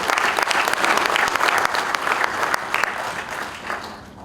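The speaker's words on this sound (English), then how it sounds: "Big round of applause for everyone." A conference audience at a business conclave applauds loudly and steadily, dense sustained clapping that fades slightly toward the end.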